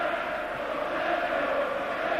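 A large football stadium crowd at Liverpool against Roma in a UEFA Cup match, producing a steady, distant roar of cheering and chanting that holds evenly throughout.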